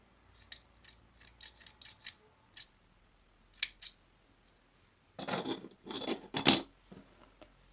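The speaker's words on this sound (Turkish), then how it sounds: "Biraz uzun kesiyorum dikmek için" Scissors snipping yarn for a velvet amigurumi turtle: a run of small, close, quiet clicks, then a couple of isolated snips and a few longer, louder cuts near the end, no talking.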